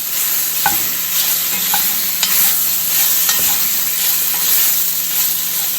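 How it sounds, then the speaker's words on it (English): Chicken feet browning in a pot for brown stew are stirred and scraped around the bottom, with a steady frying sizzle and a few sharp utensil knocks against the pot; no one talks. "I'm just moving it around so it don't stick to the bottom of the pot. And as you can see, it's browning."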